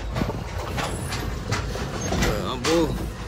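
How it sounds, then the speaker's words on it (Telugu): A train rumbles past at a large railway crossing gate, a continuous low roar with faint clattering heard from close by as people talk over it. "ఇటుపక్క ఒక ట్రైన్, అటుపక్క ఒక ట్రైన్, మధ్యలో మన యశు బాయ్ కూర్చుంటాడు."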